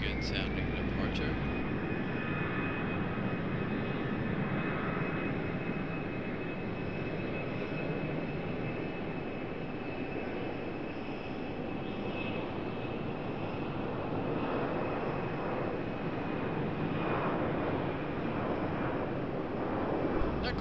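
Airliner jet departing from RDU airport with a left bank after takeoff, a steady, loud broadband engine roar with a faint whine, sustained for about twenty seconds while a voice talks over it.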